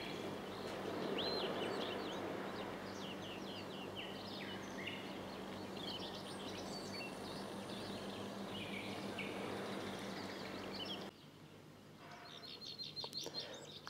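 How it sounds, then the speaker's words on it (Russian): Small birds chirp and twitter faintly through steady countryside ambience near a road between Sevastopol and Yalta in Crimea, with a low hum underneath and a brief quieter stretch near the end. "И птички поют."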